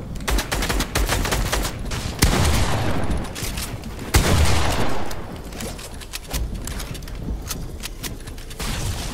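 Rapid video-game gunfire crackles almost nonstop, with dense automatic bursts and a couple of heavier booms, loud and close throughout.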